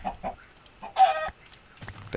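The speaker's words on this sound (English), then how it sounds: "There's a chicken." A chicken in a Minecraft-style video game gives several short clucks and one longer, louder squawk, heard alone with brief pauses between calls and no talking.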